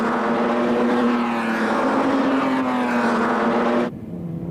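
Loud, sustained drone of ERA racing car engines during a pre-war Grand Prix race at Monaco, a steady rising pitch that cuts off abruptly near the end into quieter rumble.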